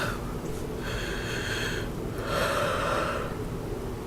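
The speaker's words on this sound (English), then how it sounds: "I yawned" A long, breathy yawn with a drawn-out exhale, followed by a second airy, sighing breath, heard up close with no talking.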